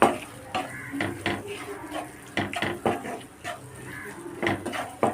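A spoon scrapes and clatters around a pan as beaten scrambled egg is mixed into a samosa-sheet filling, with irregular knocks and stirring strokes close by and a faint sizzle underneath.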